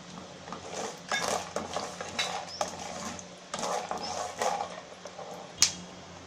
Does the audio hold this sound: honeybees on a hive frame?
no